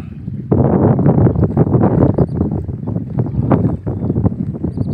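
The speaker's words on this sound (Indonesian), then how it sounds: "Angin kencang." Strong wind gusting loudly across an open microphone at a shrimp pond gate construction site in Tarakan, North Kalimantan, with a steady, buffeting roar that starts abruptly and continues throughout, close and heavy, with no talking.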